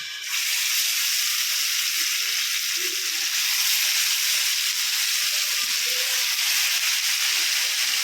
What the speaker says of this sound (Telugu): ఇప్పుడైతే ఫిష్ ఫ్రై చేయాలి.